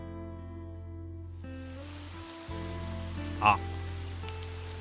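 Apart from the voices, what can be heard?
rain starting to fall, from the visual novel game Summer Pockets Reflection Blue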